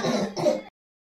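A woman coughs or clears her throat twice in quick succession at close range in a home kitchen, then silence follows.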